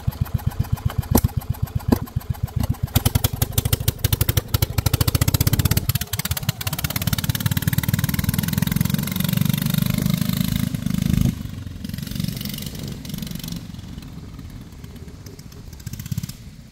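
A gas golf cart engine in need of a new carburetor runs loudly close by, first with rapid rough firing pulses, then settling into a steadier drone that fades slightly near the end.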